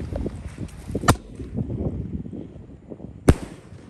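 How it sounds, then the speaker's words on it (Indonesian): Two sharp, loud bangs from a Bima Sakti 4 firecracker about two seconds apart, each a sudden crack over a background of rustling and distant noise. "Lanjut kita nyalakan mercon Bima Sakti 4"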